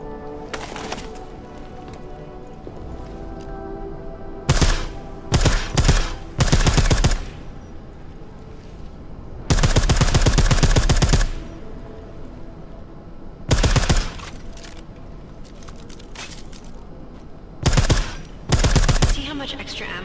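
Silenced gunfire in Deus Ex: Mankind Divided comes as several loud, sharp bursts of rapid shots, separated by quieter stretches of low game ambience.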